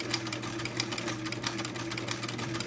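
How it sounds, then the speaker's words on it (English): A sewing machine fitted with an old-fashioned buttonholer attachment stitches a buttonhole on a tab, giving a steady, continuous mechanical hum with a fast rhythmic chatter, close and alone, no talk. "And now I'm making the buttonhole."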